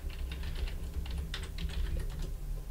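Fast, loud typing on a computer keyboard during a Minecraft survival game session, clustered clacking keystrokes over a steady low hum, with no talking.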